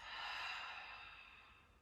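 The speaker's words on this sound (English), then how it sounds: "exhale completely through the mouth." A single deep breath pushed out through the mouth during a relaxation exercise, a soft breathy whoosh that swells quickly and fades gradually over about two seconds, close and fairly quiet, with no talking.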